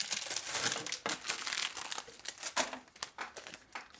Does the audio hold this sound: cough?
no